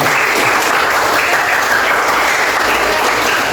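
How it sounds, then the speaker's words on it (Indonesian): Classroom applause from students after a teacher calls for clapping in a lesson, a dense, steady patter of many hands lasting throughout at close range. "Tepuk tangan dulu."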